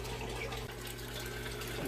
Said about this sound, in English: as far as water top ups go, I fill this half barrel probably once every 2 weeks